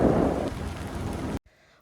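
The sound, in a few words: heavy rain in a forest at Karkala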